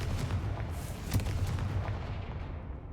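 A Confringo blasting curse goes off in the Hogwarts Legacy video game, a heavy booming explosion with rumbling low end and scattered crackling bursts, loud and close, fading over a few seconds.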